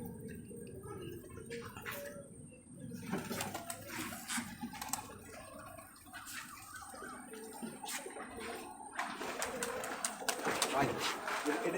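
Giribaj pigeons cooing softly in a pair, faint and partly masked by a person talking nearby, with rustling and a mechanical rattle in the background.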